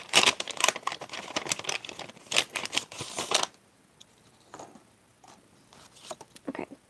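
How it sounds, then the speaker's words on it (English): Stationery packaging being crinkled and handled close up, a dense run of crackly rustles for about three seconds, then sparser faint crinkles and taps. "sorry for the crinkling, although it is the sounds of stationery"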